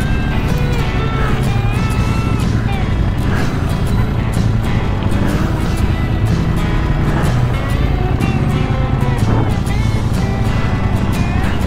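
An off-road trail motorcycle pulls away again on wet ground after a minor slip on a ride through the Alpilles toward the Cèze valley, its engine droning loud and close without a break.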